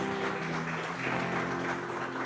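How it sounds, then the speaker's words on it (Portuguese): A church congregation applauds in worship, a soft, diffuse, continuous patter of many hands with a faint sustained tone underneath. "uma salva de palmas ao nosso Senhor"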